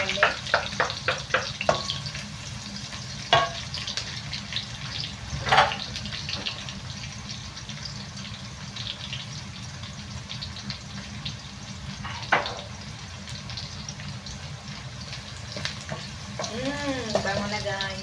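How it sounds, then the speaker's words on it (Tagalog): Garlic sizzles softly in a pan while a utensil stirs and scrapes through it, a steady low frying hiss broken by occasional clinks and clatters, with no talking. "minix natin ang ating garlic"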